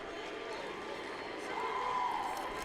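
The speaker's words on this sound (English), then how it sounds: "you can hear the Montini fans cheering three-peat" Montini football fans cheer at the 2011 IHSA Class 5A boys football championship against Joliet, a steady, dense crowd roar that swells slightly near the end, with a commentator talking over it.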